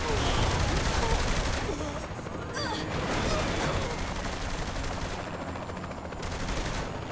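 Gunfire in Saints Row: The Third on PC, dense rapid bursts of automatic weapons and shots that keep up almost without a break, with occasional voices mixed in.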